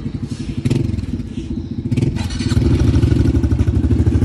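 Pit bike engine running and revving on a hillside freeride track, a steady close buzzing rumble that builds louder toward the end, with some clatter and no talk.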